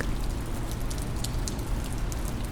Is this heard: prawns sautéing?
no